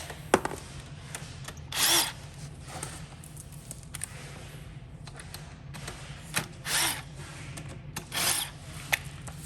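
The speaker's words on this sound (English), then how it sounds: "So on your gun, you'll just switch over to a 10 socket. We'll just unscrew them all." Power gun fitted with a 10 socket unscrewing front bumper bolts on a Venom 1000W Quad Racer, giving three short loud bursts of whirring with quieter clicks and handling noise in between.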